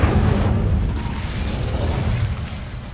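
An Incendio fire spell goes off in Hogwarts Legacy with a loud, dense whooshing burst of flame that rumbles steadily for about three seconds, then slowly fades.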